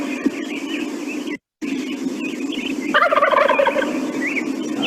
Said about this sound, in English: It's the classic gobble that you hear like right around Thanksgiving.